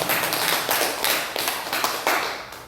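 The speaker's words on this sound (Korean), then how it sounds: "박수로 하나님 앞에 영광을 드립니다." A church congregation claps together during an early-morning revival service at a prayer retreat, loud steady rapid clapping that fills the room with no talk over it.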